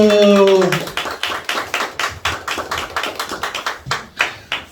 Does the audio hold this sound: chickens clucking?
no